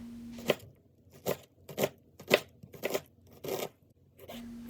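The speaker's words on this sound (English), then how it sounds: "And then I'm just going to dice up some red onions." A knife dicing red onions on a cutting board: about seven crisp, evenly spaced chops, close and clear against a quiet background.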